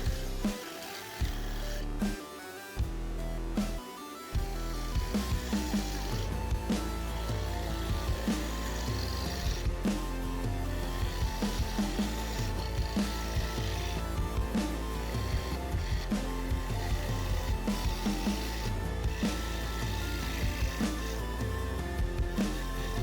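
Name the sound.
shaping outside of a wooden salt bowl on a lathe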